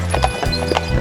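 Horses' hooves clip-clop in a quick, steady rhythm as a group of around ten horse-drawn carriages travels together, close and clear.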